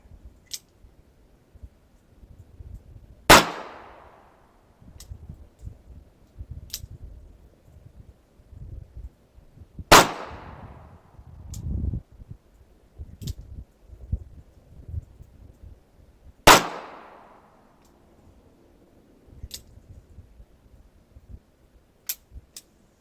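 Three sharp revolver shots from a Smith & Wesson Model 14 fired at a target about 15 to 18 yards away, spaced several seconds apart, each loud crack ringing briefly over faint outdoor rustle.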